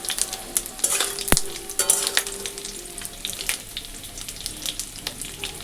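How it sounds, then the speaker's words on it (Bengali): Leftover dal being tempered in a hot pan, crackling and sizzling up close with brisk stirring and scattered spits and pops, one sharp metallic clink near the start. "বাসি ডাল বললে আর খাবে না, ওই জন্য আবার করে ফোড়ন দিছি যাতে বুঝতে না পারে"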